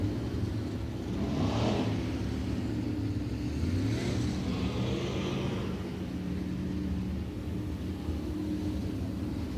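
Dirt late model race cars roar around a speedway at a World of Outlaws Late Model Series event at Senoia Raceway, a steady distant engine drone with rising passes swelling and fading.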